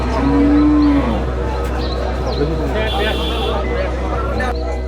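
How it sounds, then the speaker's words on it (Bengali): A cow lows once, a drawn-out moo up close at the Basuniar cattle market, then the busy hum of the market with chatter and traffic noise continues underneath. "এই যে বড় বড় গরু এগুলো"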